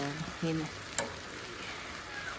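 Chicken bopis is stirred in a small frying pan, a steady low sizzle with a brief scrape of the utensil against the pan, while a voice is heard faintly near the start.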